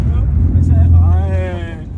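A Ford Focus RS Mk3 with 350 hp all-wheel drive revs hard while drifting, its engine a loud, steady low drone rising in pitch, under a man's speech in the car.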